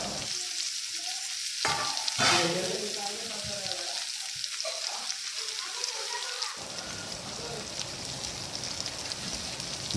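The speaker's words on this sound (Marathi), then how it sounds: "एका तव्यामध्ये 2 चमच तेल घेतलेले आहे आणि आपण जे 2 कांदे जुलियन कापलेले लांब त्यांना फ्राय करून घेऊया" Julienned onions fry in about two spoonfuls of hot oil on a flat pan, giving a steady, broadband sizzle with stirring scrapes that grows denser and louder in the second half.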